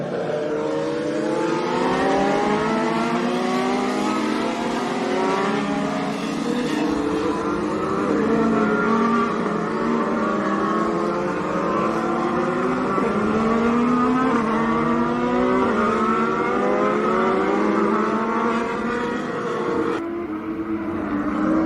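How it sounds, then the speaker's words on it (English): A NASCAR pace car leads the full racing field past on track, a loud, dense roar of many engines overlapping with shifting pitches as cars stream by continuously, with no talking. "Now the actual pace car and the field coming through."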